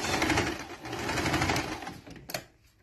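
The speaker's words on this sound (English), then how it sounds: "When you get to the end, always back stitch" A sewing machine back stitches at the end of a seam on fabric for a bow turban hat: a close, rapid mechanical whirring run that slows and stops, without talk.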